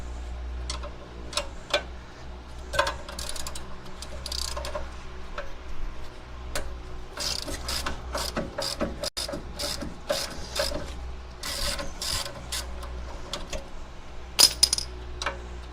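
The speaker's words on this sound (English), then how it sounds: "Why can't I get the freaking wrench on that?" Rapid ratcheting clicks of a wrench being worked on a Geo Tracker during a budget lift install, a steady ticking with sharper clanks, close up in a garage over a low constant hum.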